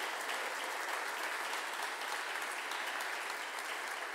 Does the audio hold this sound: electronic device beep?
no